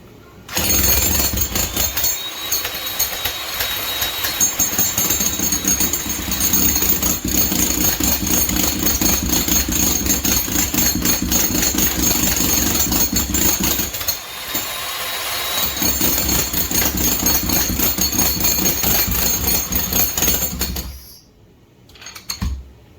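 Hammer drill fitted with a pointed bit chiseling into a concrete floor to dig a sump pump pit, a loud continuous rapid hammering that runs almost unbroken for about twenty seconds with one brief pause, then stops.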